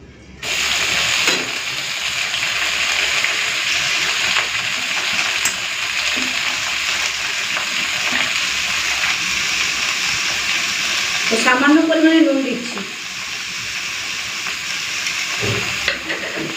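Chopped greens hiss and sizzle in hot oil with fried garlic, making a steady, loud frying noise throughout, briefly interrupted by a stirring rustle and a short voice in the middle.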